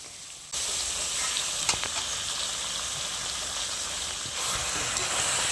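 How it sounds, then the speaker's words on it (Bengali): Mutton braising in a pan for a Bengali kosha, giving a steady, close broadband sizzle and frying hiss that runs the whole time and swells slightly near the end, with no talking. "এখানে হচ্ছে মাটন কষা এখন কষানো হচ্ছে মাংসটা"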